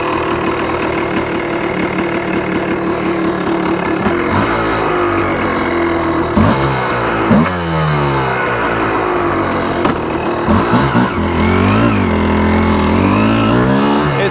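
A Yamaha Tri-Z 250 two-stroke three-wheeler rides around a yard, its engine loud and near, buzzing steadily and then revving up and down through the gears.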